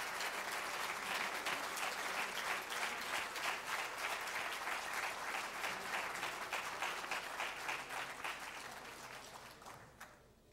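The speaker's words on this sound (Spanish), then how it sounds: "Brindemos un fuerte aplauso al doctor Dichter en reconocimiento a su trayectoria" An audience at a university economics lecture claps for Dr. Aarón Dychter, dense sustained applause from a room of people that fades out at the end.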